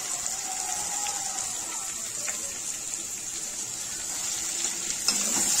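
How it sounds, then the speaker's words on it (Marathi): Onion sizzles steadily in a pan for a vegetable sandwich, a soft continuous frying hiss with faint stirring clicks and no talking. "कांदा असा गुलाबी होईपर्यंत त्याला फ्राय होऊन द्यायचा आहे।"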